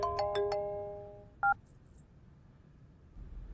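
A quick run of electronic telephone tones, then a single short beep, over quiet background hiss.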